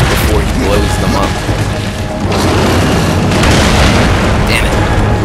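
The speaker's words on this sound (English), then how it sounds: "it's kind of difficult to get to the bombs before he blows them up" Bombs blowing up in the video game Darksiders 2, a dense, loud run of booming blasts with crashing bursts over a steady game score, one near explosion after another.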